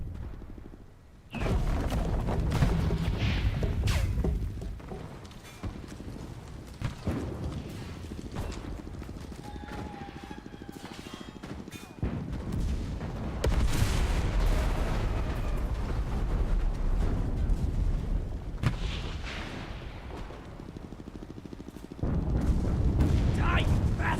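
Artillery barrage in the WWII shooter Enlisted, with a steady roar of booms and rumbling blasts running throughout, loud and dense, with voices talking over the gunfire.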